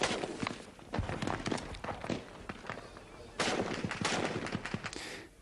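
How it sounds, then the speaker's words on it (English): Gunfire in combat during an exchange with regime forces shooting from the other side, with rapid irregular cracks and bursts, some distant and some closer, over a busy noisy background. "exchanging fire with regime forces shooting from the other side"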